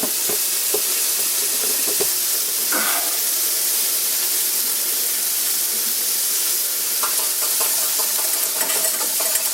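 Burgers for loco moco sizzle in a hot pan, a steady broadband hiss of frying fat with a few clinks and scrapes of a spatula over the continuous crackle, close and fairly loud.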